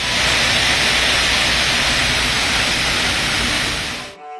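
A burst sprinkler aboard a ship sprays water indoors, like instant rain, in a loud, steady, broadband hiss. The rushing sound holds for about four seconds, then cuts off abruptly.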